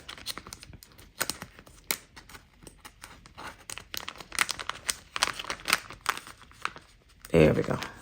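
Paper cash crinkles and rustles as it is worked into a paper envelope pocket, in a run of close, irregular crackles. A sharper crumple comes near the end.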